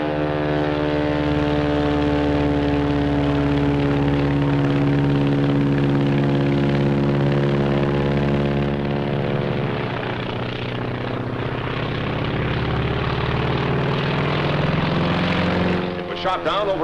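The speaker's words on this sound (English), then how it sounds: "Heaven's the wrong destination for that baby. That's a Zero, the real McCoy." A Mitsubishi A6M3 Zero fighter's radial aircraft engine drones loudly with a strong steady tonal hum, its pitch sliding as it passes, heavy and sustained throughout.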